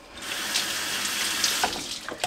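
A kitchen faucet runs steadily, a close, continuous broadband hiss of water splashing into the sink with a few brief clinks near the end.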